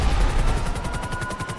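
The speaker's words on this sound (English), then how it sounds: "He's got a pistol that shoots like explosions." Explosive pistol gunfire in GTA 5 Online, a rapid burst of booming, crackling shots repeating in quick rhythm, loud and close with no talk over it.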